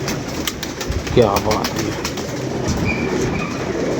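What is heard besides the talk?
pigeons cooing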